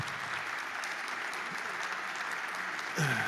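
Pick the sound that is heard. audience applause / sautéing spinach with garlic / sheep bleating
audience applause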